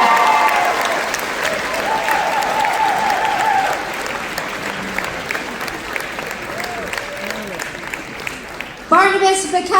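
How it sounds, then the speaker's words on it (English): Audience applause and cheering fill a graduation ceremony hall, a dense steady wash of clapping with scattered shouts that eases slightly midway, then a voice comes over it near the end. "We got to give a better cheer for Bryce here."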